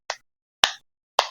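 Three crisp, close hand claps spaced evenly about half a second apart in a classroom clapping game, with silence between each clap.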